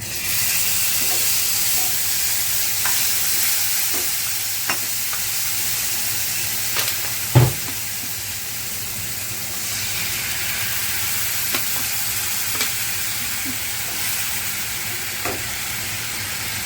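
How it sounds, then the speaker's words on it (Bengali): Steady, dense sizzling of masala frying in oil in a pan while cooking pabda fish curry, a continuous hiss with a few faint clinks of stirring and one brief louder knock near the middle. "মশলাটা একটু কষাতে হবে মশলাটা হালকা একটু কষিয়ে নেব"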